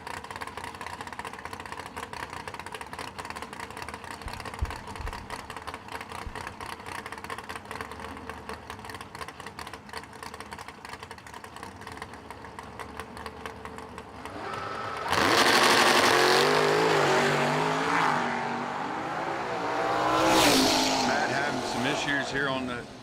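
Engines of a 1967 Ford Fairlane and a 1990 Camaro at a drag strip: a rapid, buzzing idle that bursts into loud roaring launches about two-thirds through, then a second surge, with an announcer talking over it.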